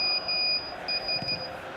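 Retro 2000s ringtone-style electronic alert beeps, a steady high tone sounding in short repeated bursts with gaps over a faint background hum, heard during a live FC Barcelona vs Atalanta Champions League broadcast.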